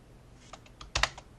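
Computer keyboard typing while writing JavaScript DOM code: a few sparse, light key taps followed by a louder cluster of clicks near the end, close-miked, with no talking.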